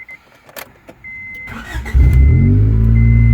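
Honda Accord engine starting: a few clicks, then the starter cranking briefly before the motor catches and settles into a loud, steady idle close by.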